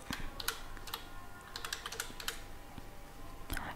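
Fingers type an email address on a computer keyboard, giving quiet, close, irregular key clicks with short pauses between bursts.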